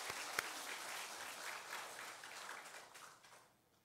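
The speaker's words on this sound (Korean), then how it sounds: "우리 박수 한번 하겠습니다." A church congregation breaks into applause, a quiet, scattered patter of many hands with a couple of sharper claps near the start, gradually thinning and fading out by the end.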